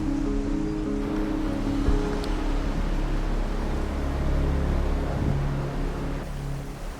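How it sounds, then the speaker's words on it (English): A broad steady rush of a small forest stream in Uttarakhand fills the clip, constant and fairly loud, with a faint low hum underneath and no voices. "I came across this small stream, which was an extension of that waterfall near my campsite."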